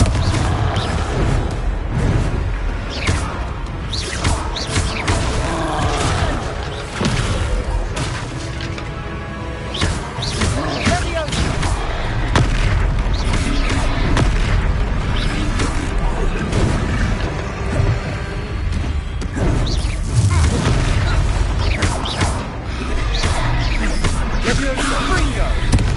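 Confringo fire spells detonate in Hogwarts Legacy combat: heavy booms and crashes roll through dense, continuous battle noise, with character voices calling out over the fight.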